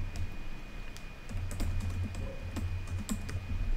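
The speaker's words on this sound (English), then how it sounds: "Next thing you want to do is you're gonna hit enter twice, and we're gonna type what you do." Someone types on a computer keyboard while building a loop script in Roblox Studio, producing irregular close clicks and taps over a low steady hum, with no talking.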